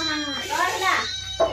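A cat meows in a kitchen, close and clear, with one drawn-out meow followed by a shorter one, and a voice also faintly present.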